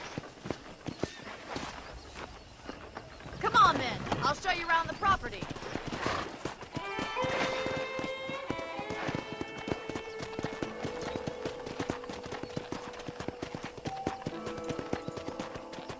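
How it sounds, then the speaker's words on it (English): Horse hooves clip-clop steadily at a walking pace while riding in the Red Dead Redemption video game on Xbox 360, a voice talking over them, with a brief whinny and background game music. "let's see if you can still ride a horse"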